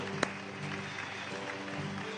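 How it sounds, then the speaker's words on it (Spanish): Faint, steady applause from an audience at a Spanish-language Bible-reading gathering, a soft even wash of clapping that lasts a couple of seconds with no clear talk over it. "un fuerte aplauso"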